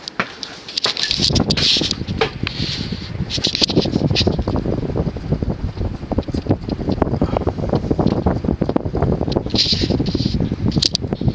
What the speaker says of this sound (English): Bearings are still slightly hissy, but they've broken in a little bit since I've let it run for a while.